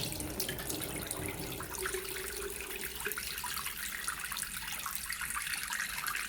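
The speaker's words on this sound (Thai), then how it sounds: "ตอนแรกผมเปิด น้ำให้ท่านดูเนี่ย ระดับน้ำผมเปิดจะให้เขาลงตรงกลางสะดือพอดีนะ" Tap water pours steadily into a washbasin, a constant close rush and splash that shifts slightly in tone partway through, with no voices.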